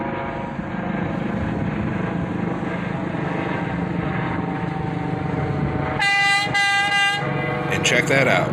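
A Norfolk Southern maintenance-of-way truck running on the rails sounds its horn in a few short blasts near the end, over the continuing drone of a helicopter passing overhead.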